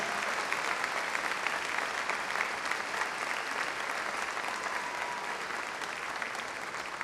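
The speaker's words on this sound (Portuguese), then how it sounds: "Você pode aplaudir o nome do Senhor Jesus" A church congregation applauds together, a dense, steady wash of clapping that holds at an even level throughout without any speech over it.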